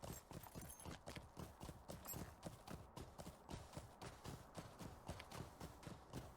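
Horse hooves clop in a steady, even rhythm while riding through Middle-earth in the game LOTRO, sounding close and continuous with no voices over them.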